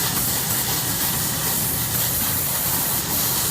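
A KeiperTech HHO torch flame hisses steadily and loudly while silver is flowed for soldering, a constant even rush with no pauses and no talking.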